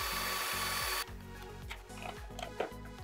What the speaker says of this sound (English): Maybe we're gonna drill here a hole and we're gonna insert the flowers.